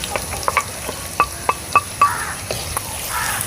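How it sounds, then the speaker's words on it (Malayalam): Chopped onion and carrot are stir-fried in a pan. A soft, steady sizzle runs underneath, broken by a string of sharp spatula scrapes and taps against the pan, with no talking. "സവോളയൊക്കെ ഇട്ട് നന്നായിട്ടൊന്ന് ഇളക്കി കൊടുത്ത് കൂടെ തന്നെ നമുക്കതിലേക്ക് ക്യാരറ്റും കൂടി നമ്മൾ ചെറുതാക്കി"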